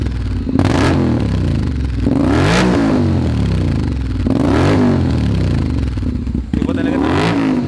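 A Honda X-ADV 750 with an upgraded exhaust revs close by in repeated blips, each rising sharply and falling back to a burbling idle, loud throughout.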